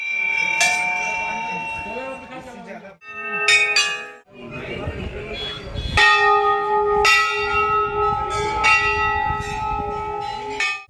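Many brass bells ring at Golu Devta temple near Nainital, a dense, continuous clanging with overlapping struck tones, loud and close, briefly pausing around three and four seconds before swelling again.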